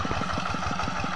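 A small handmade mini tractor engine runs in an Indonesian farm field, a steady close chugging with rapid, even pulses and a mechanical clatter, no voices.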